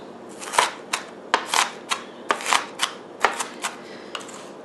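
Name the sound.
knife chopping onions with up and down motion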